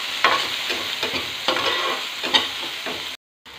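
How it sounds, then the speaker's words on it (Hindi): Tomatoes with turmeric and salt roast in a hot pan, a steady close sizzle broken by four or five spoon scrapes at an even pace, ending in a sudden short silence. "अब इस सबको अच्छे से भूंज लेंगे।"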